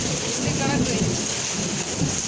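Heavy rain pours steadily in a constant hiss, with low thunder rumbling underneath, close and moderately loud.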